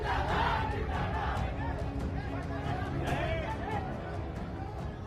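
A large crowd gathered outside Mukhtar Ansari's house, a dense roar of voices and shouting that holds steady, with someone speaking over it.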